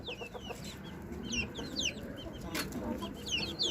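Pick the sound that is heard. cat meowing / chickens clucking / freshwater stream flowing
chickens clucking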